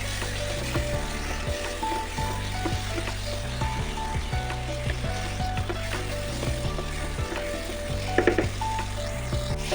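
Spice masala sautéing in a pan for an egg omelette curry, a constant low sizzle with occasional stirring scrapes, while steady tonal music plays over it.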